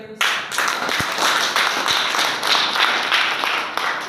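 A seminar audience applauds steadily, many hands clapping together in a dense, continuous patter that holds at a constant level throughout.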